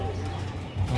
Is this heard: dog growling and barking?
no